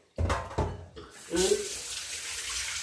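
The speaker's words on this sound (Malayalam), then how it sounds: "രണ്ട് വെള്ളത്തിൽ കഴുകാം" Running water splashes into a sink in a few short bursts while banana flower is washed, then flows steadily, with brief handling noises in between.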